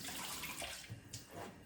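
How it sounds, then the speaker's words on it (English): Tap water runs and splashes while a plate is rinsed in a kitchen sink, a soft continuous wash with irregular spatters and no talking. "I'm gonna rinse my plate quickly."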